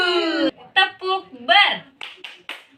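Children in an Indonesian primary school class chant a rhythmic clapping song, with sung, voice-led syllables followed by a few sharp hand claps toward the end, close and fairly loud.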